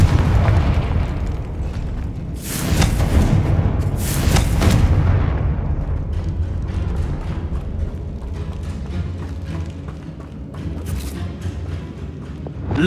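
The Confringo blasting spell in Hogwarts Legacy lands as a heavy, booming explosion with rumbling bursts, followed by a crackling, debris-filled tail that fades gradually, with a louder second surge midway.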